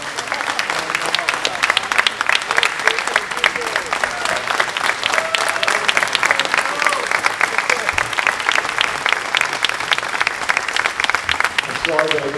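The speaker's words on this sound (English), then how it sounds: "he deserves a tremendous round of applause," Audience in a hall gives a standing ovation, dense sustained applause filling the whole stretch, loud and even, with crowd murmur beneath and a voice starting up at the very end.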